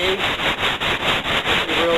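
Body filler on a car door being hand-sanded with rapid, steady back-and-forth strokes, close and loud, each rasping pass evenly spaced.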